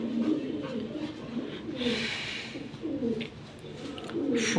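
Pigeons, among them a handsome cock bird, coo in repeated low, throaty pulses close by, several birds overlapping steadily with faint rustling between calls.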